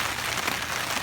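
Rain falls steadily on an ultralight backpacking tent pitched on a slope, a close, even hiss of drops pattering on the fabric with no talk.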